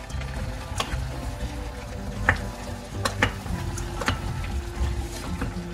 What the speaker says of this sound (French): et vous remuez jusqu'à épaississement